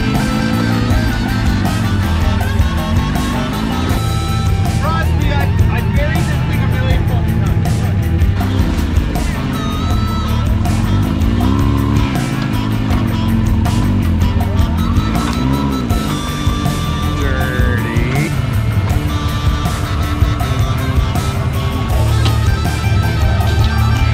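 An X3 off-road vehicle engine running with a loud, shifting drone and rising and falling revs, close by, with some voices faintly mixed in.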